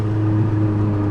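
A 2018 Honda Civic Si with a 1.5-liter turbo engine and a PRL Cobra intake holds a steady, droning hum with a strong low tone. It sounds close and even throughout, with no voices.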